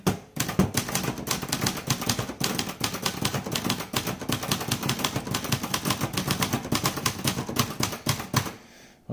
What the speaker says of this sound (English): give you my assessment of the typing action